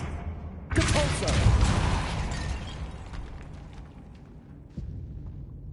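A Depulso spell cast in Hogwarts Legacy erupts into a sudden loud blast that rumbles and fades over a couple of seconds, followed later by a smaller thump.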